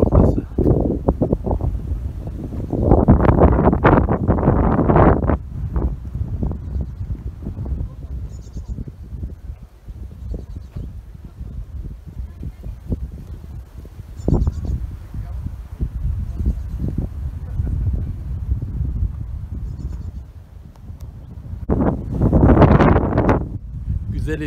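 Wind gusts over the microphone at the northern point of Gökçeada island, rumbling and buffeting in loud surges with quieter lulls between them, and faint rustling underneath.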